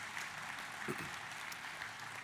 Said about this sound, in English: So a round of applause to Wendy and the FFSA team, please.